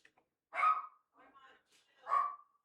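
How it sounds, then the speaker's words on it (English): A pet dog barks twice indoors, each bark short and fairly close, with quieter rustling and faint sounds in the gap between them. "And my dog's barking"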